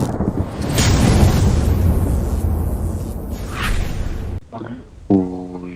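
A bomb explodes in the mobile battle game PUBG Mobile with a long, loud rumbling boom and roar that fades out, then a voice speaks briefly.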